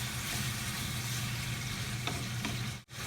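Chicken teriyaki with soy sauce being stirred in a hot pan, a steady sizzle and frying hiss running throughout with a couple of faint utensil scrapes, nearby and fairly loud.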